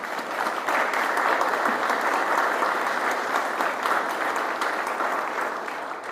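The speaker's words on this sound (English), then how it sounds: "Let's give them a round of applause." A crowd at an Indianapolis Veterans Day service applauds a military band's musical prelude, sustained dense clapping at an even level throughout, with no voices over it.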